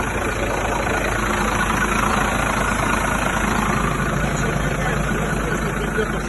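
A used truck's engine idles just after starting, a loud, close, continuous low rumble that stays steady throughout.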